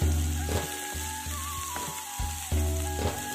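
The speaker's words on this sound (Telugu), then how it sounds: "ఇప్పుడు ఇందులోకి మనం 3 మీడియం సైజు ఉల్లిపాయ ముక్కలు, అలాగే 4 పచ్చిమిరపకాయ ముక్కలు కూడా వేసుకొని ఉల్లిపాయలు గోల్డెన్ బ్రౌన్ వచ్చే వరకు బాగా వేపుకుందాం" Chopped onions and green chillies fry in oil for a village-style drumstick chicken curry, a steady close sizzle with a few soft stirring knocks and a faint whining tone running through.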